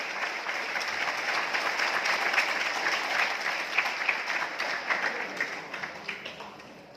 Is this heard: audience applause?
yes